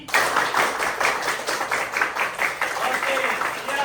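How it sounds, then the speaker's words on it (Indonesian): Children in a classroom clap rapidly many times, a quick steady run of group claps at even pace filling the room, loud and close with no talk over it. "Tepuk berkali-kali."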